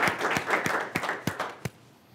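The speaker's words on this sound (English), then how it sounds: "we'll give them a round of applause." A small group applauds at a hands-on workshop session. The claps are distinct and somewhat scattered, come close together for under two seconds, then stop abruptly into quiet.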